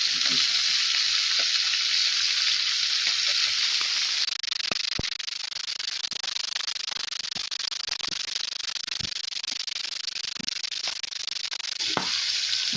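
Scotch fillet steaks sear in a hot pan with a loud, steady, close sizzle that never breaks, and a few soft clicks of the pan underneath.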